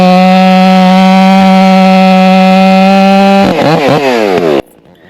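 A two-stroke chainsaw engine warms up, holding a loud, steady high-pitched drone close by. It then revs and wavers briefly before cutting out to quiet.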